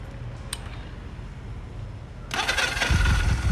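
A Honda Alpha motorbike sits quiet with a faint background hiss, then its engine is started about two-thirds of the way in and catches into a close, loud, rumbling idle.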